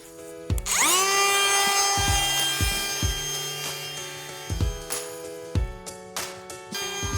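A router plunge-cuts a hole through a vinyl fence post with a template, its high whine spinning up and holding, then stopping and restarting in short bursts close by.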